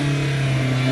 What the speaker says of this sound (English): Under the hood is a 2-liter 4-cylinder that makes 155 horsepower